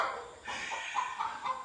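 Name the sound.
chicken clucking after laying an egg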